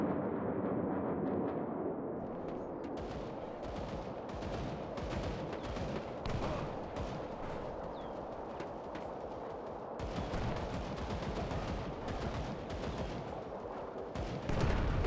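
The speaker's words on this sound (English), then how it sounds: "Listen roar of the Soviet guns." Heavy gunfire from Soviet guns in a real-time strategy video game rattles nonstop, with rapid bursts and booming shots layered into a thick, continuous battle din.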